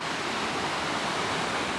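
Waterfalls formed where a river splits in two, roaring with a steady, dense broadband rush of falling water that stays loud and continuous throughout, with no voices over it.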